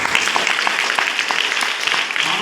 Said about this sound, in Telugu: చూద్దాం అనుకున్న వాళ్ళు ఒకసారి గట్టిగా చప్పట్లు కొట్టండి